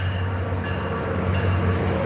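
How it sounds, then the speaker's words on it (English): Trains rolling past outdoors, a steady low rumble with a constant hum that carries on without a break, fairly close, and no voices over it. "And there are the trains out here."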